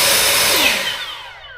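EGO battery leaf blower running with no nozzle attached, a steady loud broadband whoosh of air that tapers off toward the end of a short burst.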